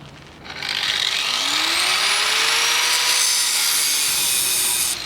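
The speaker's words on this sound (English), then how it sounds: "That central hole, all we've got to do is cut that with the grinder, breaks into 2." An angle grinder bites into a hollow concrete block, its loud, steady abrasive whine rising in pitch as it spins up and holding for several seconds of continuous cutting, close by with no talking.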